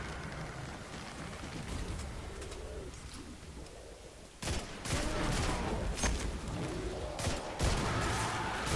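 Rapid bursts of gunfire from the video game Destiny 2 on PS4, a quieter stretch giving way to a sudden loud barrage after the midpoint, with repeated sharp shots continuing to the end.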